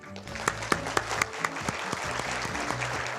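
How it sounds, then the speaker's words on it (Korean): Wedding guests at a ceremony clap in congratulations, with a quiet, steady patter of applause and a few sharper individual claps standing out, while soft music plays beneath. "힘찬 축하의 박수 부탁드립니다."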